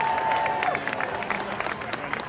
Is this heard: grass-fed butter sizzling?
no